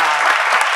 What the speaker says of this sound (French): applaudissez-vous, vous êtes formidables